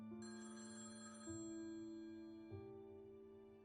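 A telephone rings in a short sequence of steady electronic tones that shift pitch in steps, clear and fairly close, with no voices.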